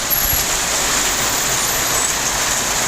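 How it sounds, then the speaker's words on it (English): Steady rain pours outdoors during a thunderstorm, a continuous broadband hiss that holds at an even level throughout with no talk. "that's just the rain."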